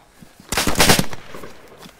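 A rapid burst of automatic gunfire in the video game DayZ, close and loud, with several quick overlapping shots lasting under a second.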